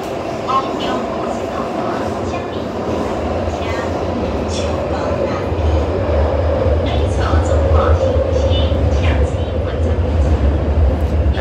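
A Taipei Metro train runs between stations, its low rumbling hum steady and loud with rising motor whine midway, while people talk over the continuous ride noise.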